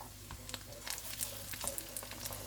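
Egg-dipped bread frying in hot oil in a home kitchen, a steady close sizzle with scattered crackles and small pops and brief stirring scrapes, fairly soft throughout.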